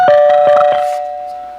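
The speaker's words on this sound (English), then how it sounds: "then you can hear the doorbell" A loud electronic doorbell on a Rittenhouse RCM4 radio intercom master station rings with several quick strikes, then one sustained tone lingers and slowly fades out.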